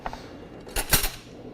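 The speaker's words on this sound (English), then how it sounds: "Let me just grab a knife in here." A knife is pulled from a kitchen drawer with a few bright metallic clinks of cutlery, a short cluster of rattles near the mic and then quiet.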